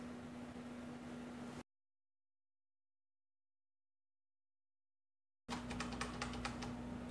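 Typing on a Logitech G710+ mechanical keyboard: a quick run of sharp clicking keystrokes at close range, alone, following a stretch of dead silence and a low steady hum.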